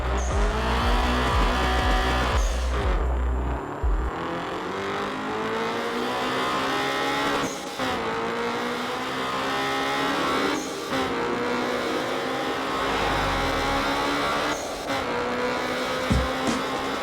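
A stock car races at high speed in a street racing video game, its engine roaring steadily with gear shifts and bursts of tire squeal, loud and continuous throughout with no talking.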